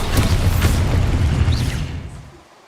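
An Exposo explosion spell cast in Hogwarts Legacy, a loud, close boom with a rumbling low body that rolls on for about two seconds before fading out to near silence.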